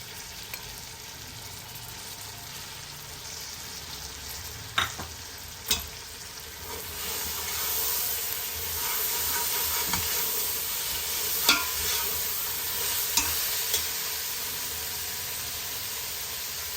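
Mint leaves frying and being stirred in hot oil for Hyderabadi kichidi, a steady close sizzle throughout with a few sharp scraping stirs of the spoon against the pan.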